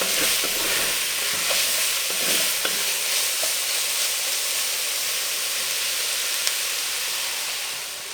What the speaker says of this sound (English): Once I've given these vegetables I'd say about a minute to saute and just soften up a little bit